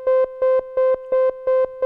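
A buzzy modular synth note switching abruptly on and off in an even square rhythm from a square-wave LFO, about six blunt pulses in under two seconds.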